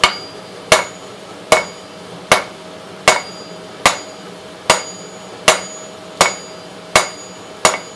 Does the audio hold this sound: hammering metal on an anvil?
yes